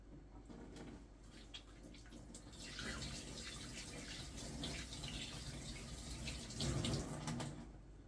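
A kitchen tap runs while hands are washed, a soft steady splash of water with faint rinsing shifts, quiet and close, with no talking.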